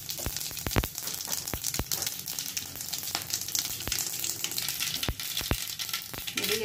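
Mustard seeds and cumin crackle in hot oil, with sharp irregular pops bursting over a steady close sizzle.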